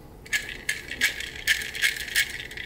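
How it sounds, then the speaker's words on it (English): An airsoft gearbox fitted with an SHS 12:1 high speed gear set spins in short bursts, each a crisp mechanical whir and rattle. About seven close bursts come at a quick, fairly even pace, with no voices. "You want to tilt your gearbox every which way so you can hear it from different angles."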